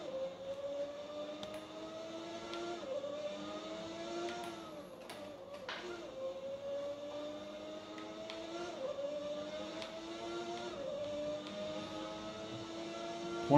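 Formula 1 cars racing in a video game at the Austrian Grand Prix, with a McLaren from 1991 driven by Ayrton Senna; a steady whining engine tone that climbs through repeated gear shifts over a low rumble, without speech.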